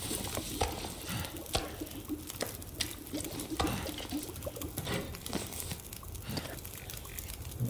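Meat cooks over a campfire in the video game The Long Dark, giving a steady close crackle and sizzle with scattered sharp pops throughout, no talking.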